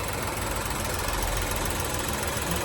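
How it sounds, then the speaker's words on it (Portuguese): A Ford Ka 3-cylinder engine runs with a noise from a faulty canister solenoid valve, a loud steady mechanical whir with fine rapid ticking and knocking throughout, close to the microphone and without speech. "barulho vem aqui, ó, a eletroválvula do canister"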